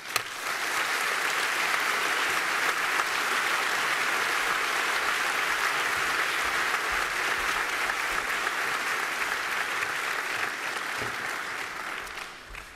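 A conference audience claps steadily to welcome an economics professor on stage, a dense even wash of applause that swells quickly, holds for several seconds, then tapers off at the end.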